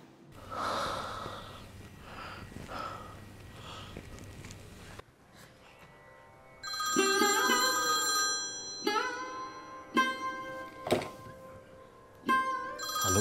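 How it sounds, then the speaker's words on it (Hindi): A telephone rings in a hospital drama scene, its repeated tonal rings sounding after a breathy, quieter stretch, fairly loud and close. "आलोक सर का फोन"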